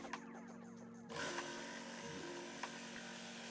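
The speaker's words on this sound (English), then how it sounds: "I used a jigsaw to cut out the general shape" A battery-powered jigsaw cuts the curved outline of a shape from wood: a steady, close buzzing rasp runs throughout, louder and denser after the first second, with a few brief knocks.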